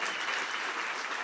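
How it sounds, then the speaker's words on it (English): A hospital heroes awards gala audience applauds the MC Camilla, a steady, full wash of clapping filling the whole brief moment. "can we get a round of applause for Camilla"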